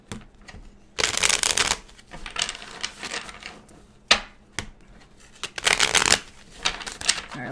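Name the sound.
shuffling tarot cards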